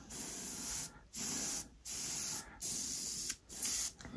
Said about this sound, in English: I'm just spraying up a bit of this